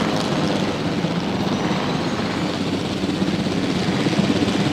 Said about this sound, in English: I wish I could tell the helicopter to go to a certain spot